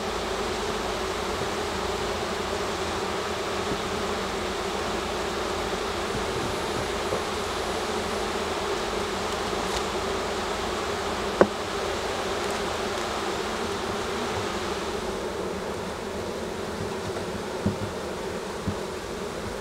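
A swarm of honeybees drones in a steady, dense buzz after the hive has been smoked again, close and continuous throughout, with a couple of faint knocks and no talking.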